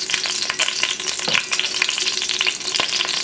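Chicken breast, mushrooms, shallots and garlic frying together in a hot pan, giving a dense, steady sizzle with small pops and crackles and no voices.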